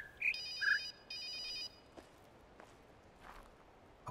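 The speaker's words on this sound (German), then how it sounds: "Kann man das Handy vielleicht abstellen irgendwo?" A mobile phone ringtone sounds in two short bursts of electronic ringing, fairly faint, followed by a few soft footsteps, with no talking.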